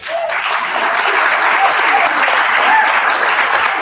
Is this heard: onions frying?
no